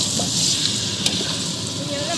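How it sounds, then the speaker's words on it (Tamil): Onions and tomatoes sauté in a pan for a large batch of veg biryani, making a steady close sizzle with faint stirring scrapes and a brief clink. "தக்காளி சேர்த்து நல்லா இப்போ வதக்கி எடுத்துக்கலாம்"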